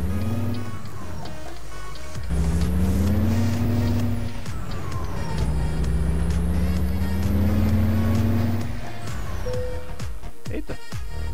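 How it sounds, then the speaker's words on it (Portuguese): A Peterbilt 389 truck in Euro Truck Simulator 2 drives with a loud, steady engine drone whose turbo pitch rises and whistles as it accelerates, shifting through gears, with brief clunks and a hiss near the end. "Olha o barulho do turbo, ó."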